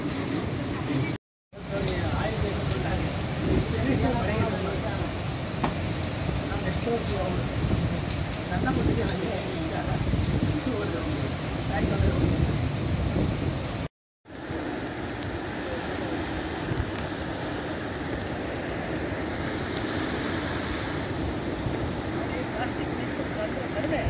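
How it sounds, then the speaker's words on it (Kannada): Heavy rain pours on Malpe beach, a dense, steady roar that stays loud throughout, broken by two brief dropouts of near silence. "ಮಳೆ ಜಾಸ್ತಿ ಆಯ್ತು"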